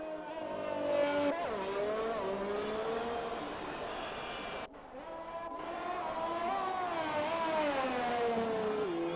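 Race car engine in a sim racing league game on medium tyres, a loud continuous whine rising and falling through gear changes across a lap, with brief drops where it shifts or brakes, no talk.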